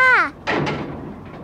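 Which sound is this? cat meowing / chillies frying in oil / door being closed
door being closed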